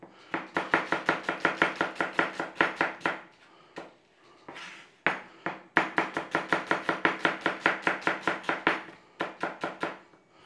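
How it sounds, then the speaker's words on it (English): A knife slices onions on a board in quick, evenly spaced chops, near and crisp, in two long runs separated by a brief pause and a few scattered cuts. "Onions, we need to slice a few onions."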